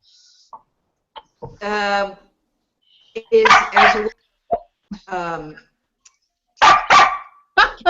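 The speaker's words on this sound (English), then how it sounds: "Whose dog is that?" A dog barks in several separate bursts, fairly close and loud, with short gaps of silence between them.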